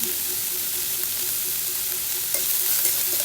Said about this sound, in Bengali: কড়াইয়ে তেল দিয়ে দিয়েছি তেলের ভিতরে অনেকখানি পেঁয়াজ দিয়েছি